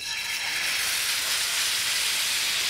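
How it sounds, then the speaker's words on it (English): Food hits a hot pan and sizzles loudly and continuously, a bright dense hiss held at close range for the whole stretch, with no talking over it. "You really want to hear that sizzle when it hits the pan"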